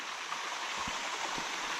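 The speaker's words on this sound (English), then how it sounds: "So I've just arrived at Rope Falls. As I said, it's a beautiful little waterfall." Rope Falls, a small waterfall in Paluma Range National Park, gives a steady, even rush of falling water, a soft continuous hiss with faint low gurgles and no voices.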